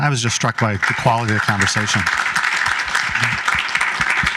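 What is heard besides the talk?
audience round of applause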